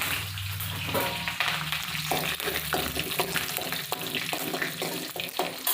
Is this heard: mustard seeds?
yes